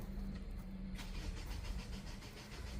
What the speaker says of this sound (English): Oh, please start Jonathan's car.